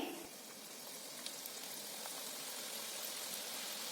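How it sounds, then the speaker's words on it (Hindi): Semolina mathri namkeen frying in medium-hot oil over a medium-low flame, a steady broadband sizzle and crackle that holds evenly and fairly quietly throughout, with no talk. "अब हम इसमें एक एक करके अपनी ये नमकीन डालेंगे।"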